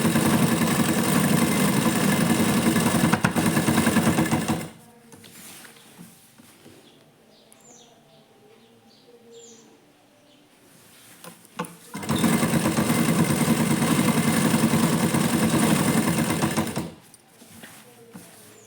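A sewing machine stitches a churidar in two loud, steady whirring runs of about five seconds each, separated by a quieter pause with faint handling noises.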